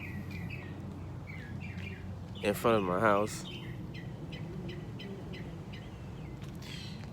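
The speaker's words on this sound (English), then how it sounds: "we got the birds out this morning" Birds chirp outdoors in front of a house on a morning, with a cluster of quick, high calls early on and scattered tweets later, while someone talks nearby.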